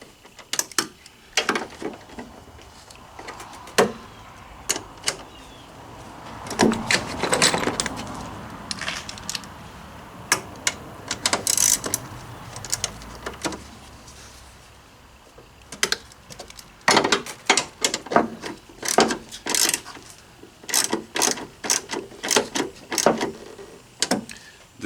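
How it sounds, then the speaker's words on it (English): A plastic coolant reservoir on a 2020 Ford Transit being bolted to the frame, heard as a sparse run of sharp clicks, taps and ratcheting knocks, close up, with short pauses between bursts. "And now the easiest part, you just bolt it to the frame."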